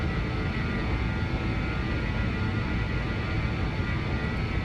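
A BAE 146 jetliner makes a flyby in a flight simulator game, a steady, loud broadband engine roar with a humming drone that holds even throughout, no voices over it.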